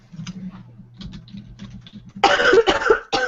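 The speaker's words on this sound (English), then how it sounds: "my god, I hate this coughing shit" Dry coughs burst out loud and close near the end, preceded by faint clicking and low background hum in a quiet room.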